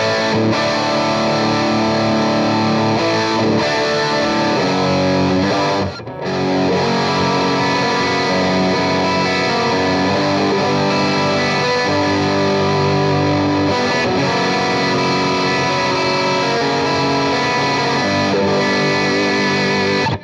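A PRS SE Special semi-hollow electric guitar played through an old Mesa Boogie Mark IV amp with a little reverb, giving loud, sustained distorted chords and riffs that run continuously with one brief pause.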